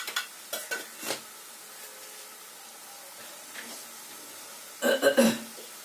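Fenugreek greens seasoned with salt and a pinch of sugar are stir-fried in a pan, with a few quick scraping strokes at the start, a quiet soft sizzle, then a louder flurry of stirring near the end.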